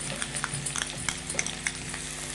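Onion pieces frying in hot ghee, a dense constant sizzle with quick irregular stirring scrapes and taps throughout, close and fairly loud.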